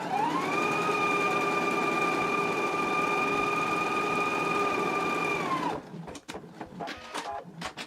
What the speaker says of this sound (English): we're going to go ahead and do stay stitching around the neck edge of this as well at a 1/4 inch seam allowance